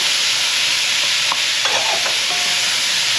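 Chopped red pepper, green pepper and celery sizzle in a pot of wild hog stew, a steady hissing fry with a few faint clinks and a brief tonal squeak, close and even, no voices.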